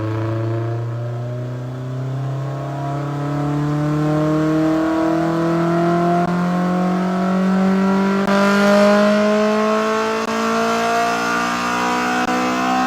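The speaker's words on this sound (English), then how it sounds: "we're gonna turn the car on and see how it sounds." Honda S2000 fitted with an HKS exhaust, test pipe and catalytic delete, revving loud and near, engine pitch climbing steadily in long smooth pulls with a brief lift midway.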